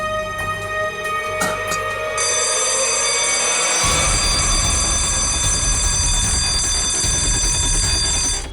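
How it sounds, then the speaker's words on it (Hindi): A loud, continuous electronic alarm rings out indoors at a crime scene and keeps sounding steadily for the whole stretch, growing denser and harsher partway through, with no voices over it. "सर अलार्म की आवाज आई"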